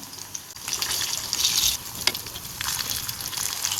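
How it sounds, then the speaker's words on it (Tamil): Dried fish fries crisp in oil on a low flame with a steady close sizzle and bursts of bubbling crackle, and no voices are heard over it. "இப்போ எல்லா கருவாடியும் நம்ம சேர்த்தாச்சு இதை லோ ஃப்ளேம்லேயே வச்சு நல்லா முறுமுறுப்பாக பொறிச்சு எடுத்துக்கலாம்"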